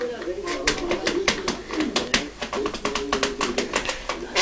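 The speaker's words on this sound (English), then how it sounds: "Got the vicious bird on my shoulder." A pet bird perched on a person's shoulder gives soft, repeated cooing calls alongside light tapping, heard close up while people talk nearby.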